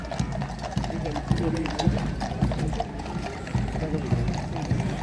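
Cavalry horses of the Blues and Royals clatter along during the Changing of the Guard, a dense run of overlapping hoof clip-clops on pavement, close and loud, with someone talking over them.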